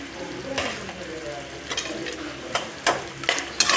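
Cashews stirred into a mushroom biryani masala in a pan, giving a soft continuous sizzle with scraping spoon strokes and several sharper clacks near the end.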